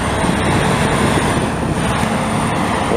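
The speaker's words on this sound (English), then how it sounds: "Old Cadillac Escalade just drove by." A steady, loud traffic rumble with road noise, consistent with an old Cadillac Escalade passing close by on a street in an industrial area of Montreal, heard without talk.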